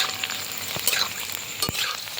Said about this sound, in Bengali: দেখতে পাচ্ছ এইটুকুনি তেলে আমি কতগুলো ভাজছি